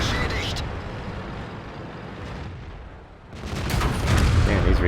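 Tank gunfire in a World of Tanks battle replay comes as heavy booming shots over rumbling battle noise, with a sharper, louder burst toward the end.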